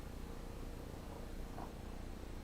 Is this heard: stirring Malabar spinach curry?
no